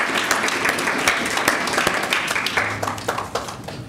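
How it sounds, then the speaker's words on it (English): Audience applause at an open access award session, a steady wash of many hands clapping throughout, tapering slightly toward the end. "one more round of applause for Professor Dudgeon."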